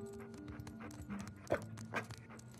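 Dog panting in the video game Uncharted 4, a soft rhythmic breathy huffing at close range over a low game ambience, with a couple of brief louder accents.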